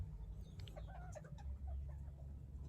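A chicken clucks softly in a few short, scattered calls over a low rumbling background, fairly close but not loud.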